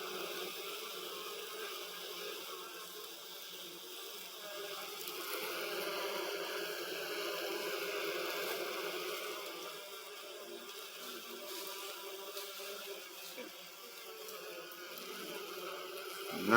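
Bees buzz around a hive in a tree outdoors, a continuous, even drone that swells slightly midway, heard alone without talk.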